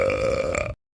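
A bear gives a single loud, drawn-out burp lasting most of a second, with a strong tonal, resonant rumble, close to the microphone, then abrupt silence.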